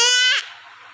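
A young boy imitates a cow's moo with a single sustained vocal call of about 0.4 s that bends downward at the end, followed by quiet room tone.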